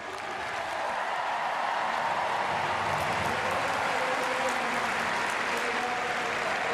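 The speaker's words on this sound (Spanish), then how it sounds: "La ovación va a ser de gala para ella." A stadium crowd at a European athletics team meet in Gateshead roars and applauds in a sustained ovation for a 400 m runner, a dense, steady wash of clapping and cheering that holds throughout.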